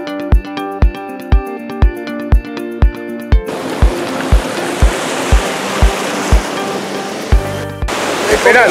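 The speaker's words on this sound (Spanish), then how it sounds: "muy fuerte el mar" Rough sea waves break at a fishing shore, a dense steady roar of surf that swells in partway through, with a rhythmic music beat thumping throughout.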